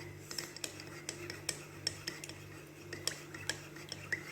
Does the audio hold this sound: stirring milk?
yes